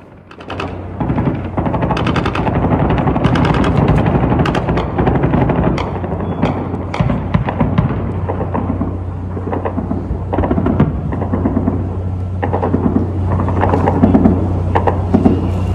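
Explosions from a missile and drone attack on Tel Aviv rumble and crack over a street. Loud booms and sharp bursts come repeatedly under a constant low drone, with no voices.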